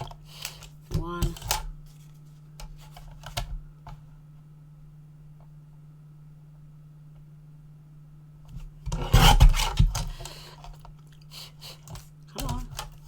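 Scissors snip small paper borders for a pink Christmas mini album, a few brief rasping cuts near the start and a louder burst of cutting around the middle, with a steady low hum between.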